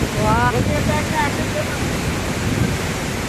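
Waterfall at Bhandardara, its spray hissing as a broad, steady wash of noise, with a woman's brief exclamation near the start over the continuous rush.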